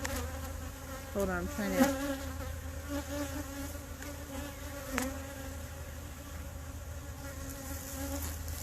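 Honey bees buzzing around an open hive, a dense steady drone of many wings with a few individual bees whining past close by, moderately quiet, with a person briefly speaking over it.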